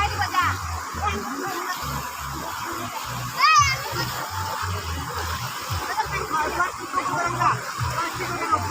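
Water splashes and sloshes as a man is bathed by someone helping him during a Shiva puja gathering, with voices and children's chatter going on throughout and a higher call rising briefly in the middle.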